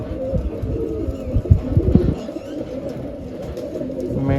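Pigeons coo in low, throaty, repeated calls at close range. Someone talks quietly in the background.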